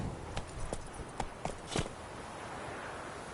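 Horse hooves in a video game on PS4, a handful of soft clip-clop steps at a slow walk, fairly close but muted over a steady background hiss.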